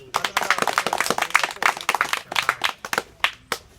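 Children in a village community outreach session clap for classmates who laid out the mats, a busy, uneven patter of close hand claps with strong individual strikes, loud and continuous with no talking over it.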